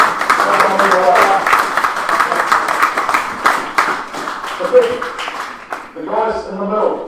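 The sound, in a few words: applause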